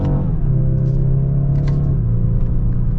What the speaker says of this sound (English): Actually sounds pretty good for being a little four-banger